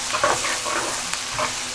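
Finely chopped onions fry toward brown in a pan, a short burst of hissing sizzle with a few quick stirring scrapes.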